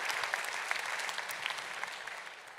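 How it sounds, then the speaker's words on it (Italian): Dense crowd applause at a literary prize ceremony, many hands clapping together in a full, even roar that slowly thins toward the end. "Possiamo fare un applauso a questa frase"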